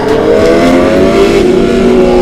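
A Kawasaki ZX6R sport motorcycle with a loud aftermarket exhaust revs hard and close, a sustained raspy roar with rising pitch and no talk over it.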